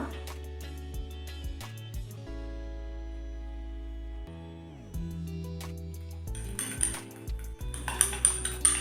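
A spoon clinks and scrapes against a bowl while honey is mixed into a homemade face pack, giving scattered light metallic taps that grow busier toward the end. No one speaks.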